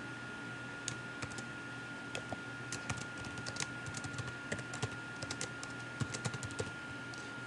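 Keys clatter on a computer keyboard as a page name is typed in Blackboard 9, irregular clicks in short bursts over a steady background hum, close and fairly quiet.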